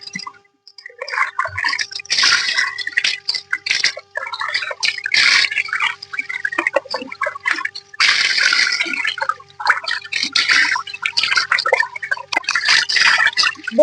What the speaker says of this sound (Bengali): এরপর আমি মাথাটা ধুচ্ছি দেখুন দেখুন জলটা কত কালো